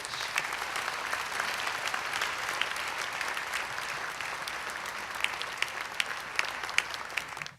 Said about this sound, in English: Another round of applause to all the award recipients